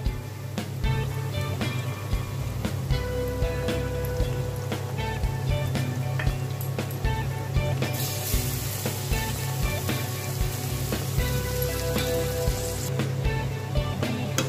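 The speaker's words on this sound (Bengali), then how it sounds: "এবার আমি চিকেনগুলো একে একে দিয়ে দেবো।" Chicken pieces sizzle and fry with browned onions in a pan, a steady dense crackling hiss that swells a little midway and carries on without talk.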